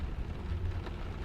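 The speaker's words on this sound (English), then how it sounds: "It rains still" Rain falls during a drive through misty Ireland, a steady low rumbling wash of drops heard from inside, continuous and moderately loud with no voices.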